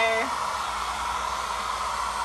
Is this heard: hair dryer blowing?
yes